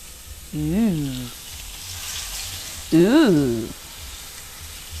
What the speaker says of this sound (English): Just gonna throw it over here in the skillet. Y'all hear that?